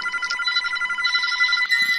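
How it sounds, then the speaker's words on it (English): A telephone rings in a Roblox airplane horror game, a loud, rapid, repeating electronic bell that trills continuously, with a brief low voice at the end. "the phone is ringing."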